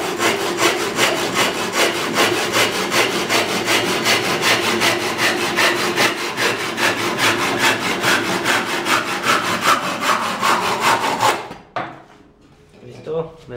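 A freshly sharpened handsaw cuts through carob wood in fast, steady rhythmic strokes, loud and close, then stops abruptly near the end, leaving brief faint handling sounds.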